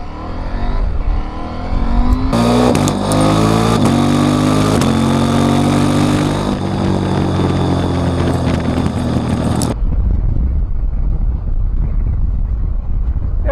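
KTM 790 Adventure motorcycle ridden in rally mode with a sharpened throttle, its engine loud and steady under heavy wind rush, revving up strongly before dropping off to wind noise near the end.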